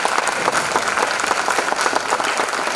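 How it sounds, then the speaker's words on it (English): An audience at a League of Women Voters candidate forum gives the candidates a steady, dense round of applause, sustained and evenly loud throughout. "Let's give them a round of applause."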